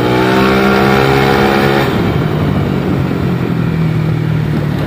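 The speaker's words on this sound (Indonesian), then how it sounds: "Gue geber-geber motornya." A Yamaha Lexi 155cc scooter engine revving loudly up close during a test ride: a steady high-pitched whine climbs, then drops into a rougher, grumbling idle-like drone with no talk over it.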